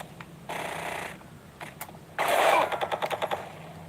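Gunfire in the video game GTA Vice City Stories: a brief burst of rapid shots, a few scattered pops, then a louder sustained automatic burst ending in a run of distinct cracks, with no talking.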